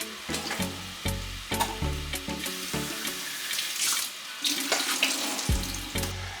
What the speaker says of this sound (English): For me, I always drain the water from these stuff because it have too much preservative to have a shelf life.